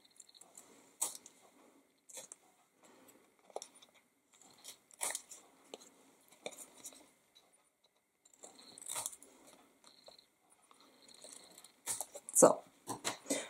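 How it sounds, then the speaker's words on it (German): Scissors trimming overhanging paper from a folded craft card, a series of soft crisp snips and paper rustles spread irregularly across the clip, close and fairly quiet, with a sharper cut near the end. "Also das, was übersteht, schneiden wir ab."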